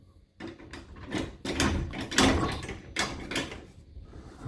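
A garage door mechanism clunking and rattling as its emergency release string is pulled, a few close mechanical knocks and scraping sounds over a steady rumble, with no voices.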